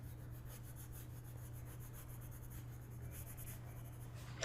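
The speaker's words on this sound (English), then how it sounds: "I'm going to pick up the chocolate pencil, throw some more color down." Chocolate-colored pencil shading across paper, a soft, steady dry rubbing and scratching that continues evenly and close up over a low constant hum, ending with a brief louder knock.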